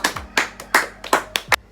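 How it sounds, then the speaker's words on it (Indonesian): A class claps hands after a group presentation in an Indonesian-language teaching simulation, with about seven separate loud claps in an uneven rhythm and no talk over them. "Tepuk tangan."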